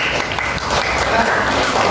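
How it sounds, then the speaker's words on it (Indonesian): Loud, dense applause from a classroom audience, continuous clapping filling the whole moment. "Tepuk tangan buat Mbak Elis."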